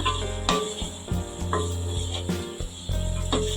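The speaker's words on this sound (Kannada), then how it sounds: "ಇದೆಲ್ಲ ಚೆನ್ನಾಗಿ ಸಾಫ್ಟ್ ಆಗಬೇಕು ಟೊಮೆಟೊ ಎಲ್ಲ ಅಲ್ಲಿವರೆಗೂ ಫ್ರೈ ಮಾಡ್ಕೊಳ್ಳೋಣ" Tomatoes fry in a pan for a cashew curry gravy, giving a steady close sizzle with occasional stirring scrapes and a low hum underneath.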